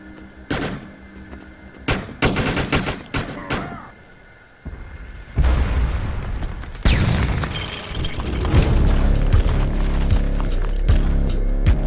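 Explosions from a destroyed target in the video game Defiance: a run of loud booms and crashes with heavy low rumble, several sharp bursts early, then a dense, sustained roar of blasts and debris.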